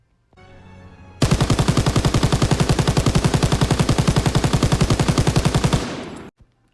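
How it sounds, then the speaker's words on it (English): Sustained burst of MG42 machine gun fire from the World War II shooter Call of Duty WW2, a loud, rapid, evenly spaced stream of shots lasting about five seconds before cutting off, preceded by a faint low rumble. "So first up is the MG42 from Call of Duty."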